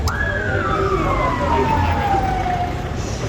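An ambulance siren wails close by, a loud sweeping tone gliding steadily downward over a constant rumble of traffic and crowd noise.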